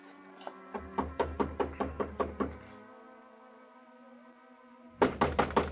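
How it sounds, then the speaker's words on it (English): Knuckles rap on an apartment door in a radio drama, a run of about nine firm knocks, a pause, then another quick series of knocks, close and clear. "climbed the stairs, and knocked on her door."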